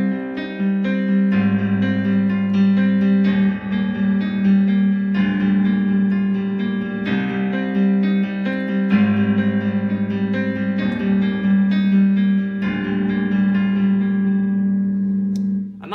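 Piano chords from a song repeat in a steady cycle, each chord struck twice. Sustained, even and close for the whole stretch, with no one talking.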